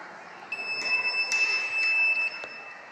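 A laser security system alarm gives a steady high electronic buzz with sustained tones for about two seconds, moderately loud over a faint background hiss, with no talking.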